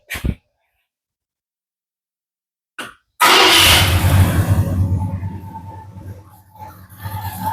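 A 1968 Ford F250 truck fitted with a used, re-jetted carburetor is started. After a few brief sounds and silence, the engine catches abruptly and runs loud and close, its rumbling idle easing slightly as it settles.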